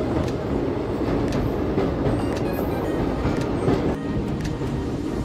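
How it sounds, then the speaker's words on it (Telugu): A passenger train crosses the new 2.8-kilometre Pamban sea bridge, heard from on board as a steady loud rumbling roar with faint rhythmic wheel clatter and occasional light squeals, no voices present. "మనం ట్రావెల్ చేస్తున్న ట్రైన్ వెళ్తుంది కొత్త పంబం బ్రిడ్జ్ మీద"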